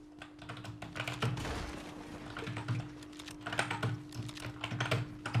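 Computer keyboard keys pressed rapidly during Fortnite play, a dense run of quiet clicks and taps in irregular bursts with brief pauses, close and soft, over a faint steady hum.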